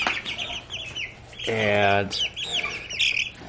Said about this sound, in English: But these are chirping chickens.